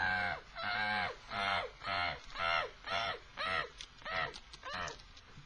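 A human voice imitates a black-headed gull with about nine harsh, rising-and-falling squawks in an even rhythm, each roughly half a second long, close and clear.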